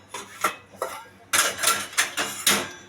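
Prawn masala being sautéed in a pan at close range: a string of scraping, rubbing stirring strokes, with sharper, louder scrapes in the second half and no talk.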